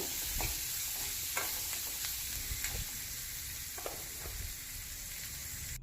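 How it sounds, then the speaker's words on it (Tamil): Onions sautéing with salt in a pan for sambar, a close, steady sizzle with repeated scraping stirs of a spoon at an uneven rhythm, no talking. "உப்பு சேர்த்து நல்லா ஒரு டைம் கலந்து விட்டுறலாம்"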